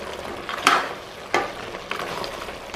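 Ground garam masala powder and blended coconut paste fry in a pan for a mutton curry, giving a steady sizzle broken by a couple of sharp spoon scrapes against the metal.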